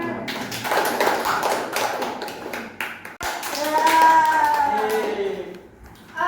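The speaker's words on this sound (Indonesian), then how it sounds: "Beri tepuk tangan deh" A class claps for a group presentation, a burst of scattered hand claps that stops abruptly, followed by voices talking and some tonal sound.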